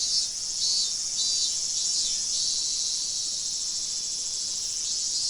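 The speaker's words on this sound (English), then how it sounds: "hear the cicadas." A dense, high-pitched cicada buzz in the video game Higurashi: When They Cry drones continuously and evenly, alone with no talk, shimmering slightly in intensity throughout.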